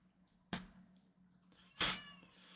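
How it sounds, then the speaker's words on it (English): A domestic cat meows to be let in through a door, with a sharp burst followed later by a louder, drawn-out cry, close by in a quiet indoor room. "There's nothing more annoying than a cat that just wants in and outs every 3 minutes"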